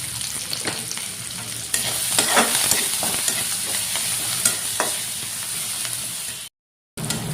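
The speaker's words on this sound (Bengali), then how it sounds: "পেঁয়াজটা ভাজা হয়ে গেছে।" Chopped onion frying in oil with green chili, garlic and whole cumin, a steady close sizzle with scraping stir strokes throughout, no talking, briefly cut to silence near the end.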